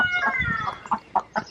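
Several backyard chickens cluck close by in short, uneven bursts, fairly soft, with a few sharper calls standing out.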